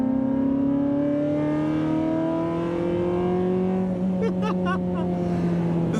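A 1995 Ferrari F355 Berlinetta with a Nitron Racing exhaust, baffle open, revs high with a loud, sustained, rising engine note close up, with a few brief sharp crackles near the end.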